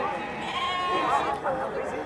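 Goats bleat at a livestock fair in Caruaru, Brazil, a couple of wavering cries rising over close, steady conversation.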